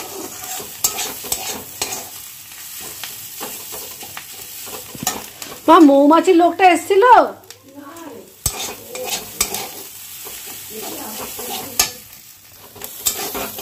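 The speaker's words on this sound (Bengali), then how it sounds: "যখন তেল ছাড়বে, তখনই ঝিঙ্গেটা দিতে হবে" Fish roe and ridge gourd fry in hot oil while being stirred, a steady low sizzle with scraping running underneath as someone talks over it.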